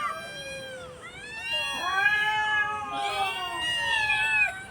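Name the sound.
cats meowing at feeding time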